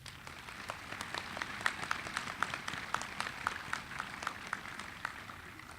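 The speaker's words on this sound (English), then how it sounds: "Let's give them a round of applause." Applause at a college graduation ceremony, many hands clapping steadily and fairly loudly across the whole stretch with no speech over it.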